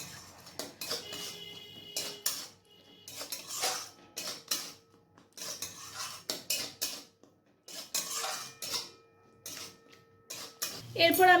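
Utensils clinking and scraping in a pan as tamarind pulp is stirred into a fish egg curry, in repeated bursts of metallic clatter with quiet pauses between them.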